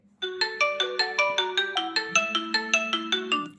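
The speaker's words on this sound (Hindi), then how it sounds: "तो इस तरीके से आपके फ़ोन में रिंग बजेगी" Phone ringtone set off by a Redmi Smart Band Pro's Find My Phone feature, a bright repeating melodic pattern of about a dozen evenly spaced notes, steady and moderately loud.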